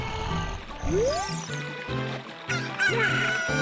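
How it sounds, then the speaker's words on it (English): Cartoonish chicken clucking and squawking from the video game The Legend of Zelda: Ocarina of Time, several close bursts with a rising squawk over a light game background. "Fortunately, we have an item that will help. The chicken."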